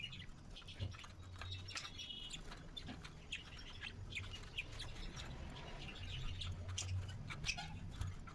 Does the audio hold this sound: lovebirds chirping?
yes